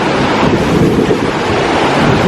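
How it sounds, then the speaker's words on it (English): Ocean waves surging up a beach at Baler, Aurora in the Philippines, heard as a loud, continuous wash of surf mixed with heavy wind buffeting the microphone, with no talking. "you see the tide coming up the beach"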